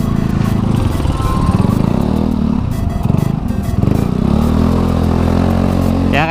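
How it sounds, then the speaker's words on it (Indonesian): Carburetted Honda Beat scooter ridden through heavy Jakarta rush-hour traffic, a loud, steady buzzing engine drone close up with rough clatter and surrounding traffic noise. "Ya kayak gini lah kalau naik motor di Jakarta"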